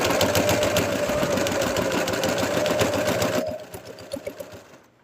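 A sewing machine runs in a steady, loud buzzing stitch while making a Kawbootoe-inspired sewn piece, then stops briefly and resumes in a short reverse back-stitch burst before fading out, with no talking.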